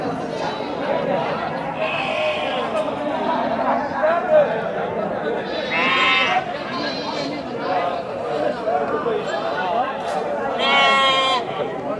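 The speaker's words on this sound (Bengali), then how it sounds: "ভেড়া।" Sheep bleat in several loud, wavering calls at a livestock market in Bagerhat, with crowd chatter and bargaining voices around them throughout.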